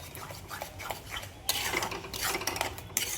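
A spoon stirs and scrapes egg bhurji made from four eggs around a pan, with continuous close rubbing and scraping that grows busier and louder partway through, no talking.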